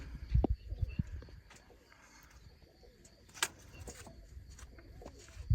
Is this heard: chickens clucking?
no